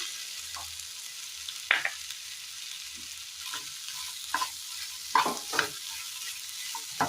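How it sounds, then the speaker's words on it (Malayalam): A spoon stirs chopped tender coconut flesh through a spice masala in a pan, with several scraping strokes and soft sizzles spaced irregularly over a low frying background. "നന്നായി ഒന്ന് മിക്സ് ചെയ്തെടുക്കാം"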